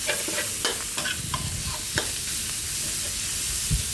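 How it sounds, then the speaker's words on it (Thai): Minced pork stir-fries with garlic in hot oil, giving a loud, continuous sizzle with scraping and stirring clatter from a spatula against the pan throughout. "เนี่ยเจ้าหลังจากที่เขาคั่วหมูครับ"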